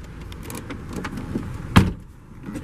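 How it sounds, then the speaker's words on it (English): A Volvo's driver's side power window runs up and closes with a short thump, heard from inside the car against a low background hum, no talking. "Driver's side window back up."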